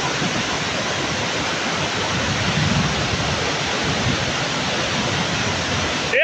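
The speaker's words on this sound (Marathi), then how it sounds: "हा सर्वात मोठा धबधबा आहे" Roar of a large waterfall near Khed in Ratnagiri, a steady broadband rush of falling water that stays loud and even throughout with no voices.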